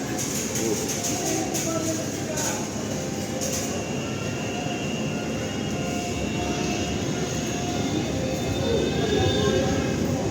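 An LRT Line 2 light rail train between Recto and Antipolo rumbles along steadily with a broad, continuous roar that swells slightly toward the end.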